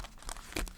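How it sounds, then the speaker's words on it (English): Thick cardstock oracle cards get shuffled up close, giving brief papery riffles and crisp slaps in quick, uneven bursts under a second. "Let's give it a good shuffle."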